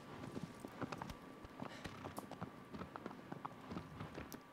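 In the Shadow of the Colossus video game, a horse's hooves clatter up a stone stairway in a quick, uneven galloping clip-clop, faint and steady, with no voices.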